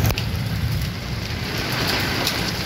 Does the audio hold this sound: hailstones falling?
yes